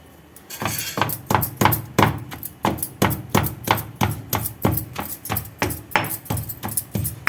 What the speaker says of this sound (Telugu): ఉలిసిన ఎల్లిగడ్డ మసాలా దంచేయాలి